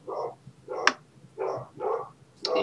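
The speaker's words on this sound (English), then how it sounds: "You guys probably hear my dog in the background." A dog barking indoors in the background, several sharp, mid-pitched barks in irregular bursts over a few seconds, fairly distinct at moderate distance with no talk over them.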